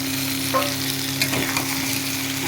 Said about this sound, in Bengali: এবার এর মধ্যে দিয়ে দিচ্ছি মিষ্টি কুমড়ো, কচু আর ওই আলু দিয়ে এবার এটাকেও ভাজা হবে